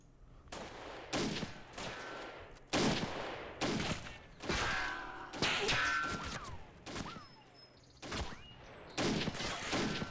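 Gunfire rings out in a Totaler Krieg 1939-45 mod battle involving a British parachute platoon: sharp, loud shots and short bursts spaced irregularly, some close and booming, some farther off, with brief quieter gaps between volleys.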